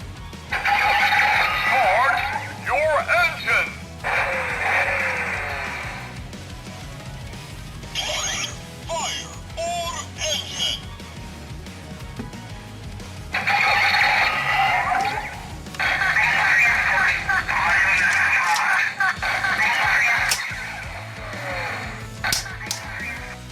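Loud electronic sound effects from a DX Drive Driver toy transformation belt play in bursts, with bright synthetic tones, crashes and announcer-like voices repeating between short pauses.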